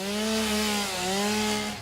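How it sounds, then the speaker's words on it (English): A video-game chainsaw revving steadily, a buzzing engine drone with a slight pitch dip in the middle, loud and close, running alone for about two seconds. "Let's get the old chainsaw."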